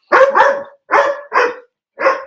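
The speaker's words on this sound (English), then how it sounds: "my dogs yet again" Dogs barking indoors in a home during an online talk, loud close barks in quick pairs and single yaps spaced across a couple of seconds, with no talk between them.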